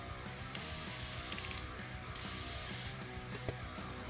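Screws being backed out of the suspension mount brackets on a Tamiya Monster Beetle RC truck chassis, giving a steady close ratcheting click from a screwdriver with a few faint higher tones, no voices.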